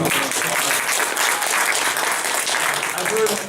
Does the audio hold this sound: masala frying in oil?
no